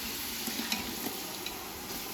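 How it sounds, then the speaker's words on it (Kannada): Ginger-garlic, green chili, mint and coriander paste fries in a pan with a steady, close sizzle, broken by a few small stirring scrapes and spatters, and no voices. "ಇವಾಗ ಸ್ವಲ್ಪ ಹಸಿ ವಾಸನೆ ಹೋಗೋ ತನಕ ಫ್ರೈ ಆಗೋಕ್ಕೆ ಬಿಡೋಣ"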